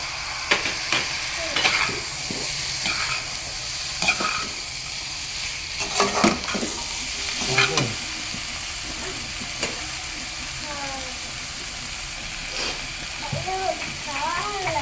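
Boiled, finely chopped beans stirred in a pan with fried spices, giving scraping and sizzling spatula strokes in bursts, with brief talk at times.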